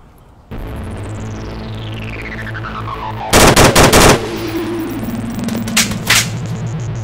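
AK-12 rifle fire in the VR shooter Onward sounds as a loud, close burst of rapid shots. A steady mechanical drone and a falling whine run underneath, with a few more scattered shots after.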